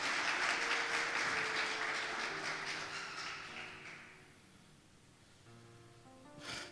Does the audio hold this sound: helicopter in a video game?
no